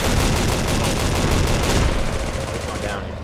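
Dense, rapid gunfire rattles almost continuously against an APC in Project Reality during a mechanized infantry fight, loud bursts of rounds striking armor overlapping for the whole stretch.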